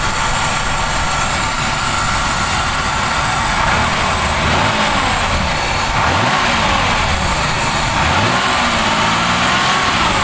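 A 1992 Buick Regal Custom with a 3.1 V6 is revved several times, its engine note rising and falling in steady swells over a constant broadband hum, loud and close, with no talking.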